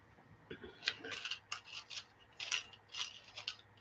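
Paper word cards shuffled by hand, giving a run of soft rustling, flicking swipes in quick irregular bursts, close and fairly quiet with no talk.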